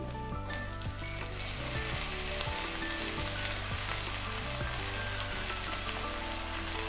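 Boiled green beans tipped into a pan with tender potato pieces for an aloo beans curry, setting off a steady, dense sizzle that continues evenly throughout with soft crackles and no talking.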